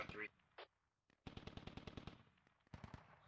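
Machine gun fire in the military shooter Squad, heard as rapid, evenly spaced bursts of shots, fairly close and sharp, broken by short pauses, with a brief voice at the start.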